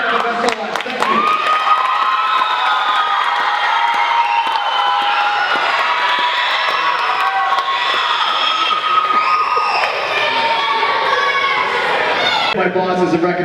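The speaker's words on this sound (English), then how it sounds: "One more round of applause for our amazing staff of SOS." A school audience at a Freedom School event cheers and claps for the staff, loud continuous crowd noise with children's shouts and excited voices throughout.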